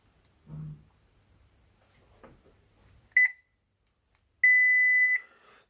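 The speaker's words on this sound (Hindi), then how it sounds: "मीटर को बजर मोड पे लगाता हूं मैं" A multimeter in continuity buzzer mode tests the winding of a Haier/Gree DC inverter air-conditioner transformer, giving a short beep and then a steady, high, piercing tone held for under a second among faint handling noises.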